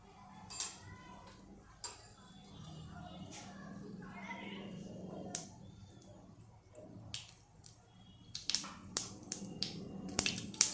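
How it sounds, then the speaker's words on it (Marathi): Mustard seeds popping in heated oil while cooking a bajri-based dish, scattered sharp crackles and snaps that thicken toward the end, with faint speech in the background. "आता हे तेल तापलं की त्यात मोहरी वगैरे टाकते."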